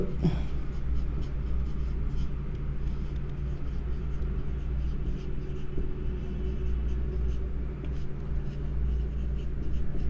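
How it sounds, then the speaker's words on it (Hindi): Steady hand-writing of points on paper, a continuous soft scratching over a constant low rumble of background noise, lasting about ten seconds without talking. "दूसरा पॉइंट हम लिखेंगे"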